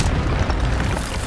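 An Incendio fire spell cast in the Hogwarts Legacy video game: a short, loud, booming whoosh with dense rumbling energy that fills the brief moment.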